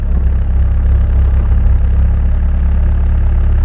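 An excavator engine idles at lowered RPM with a loud, steady, low diesel rumble and an even throb, close up and with no talking.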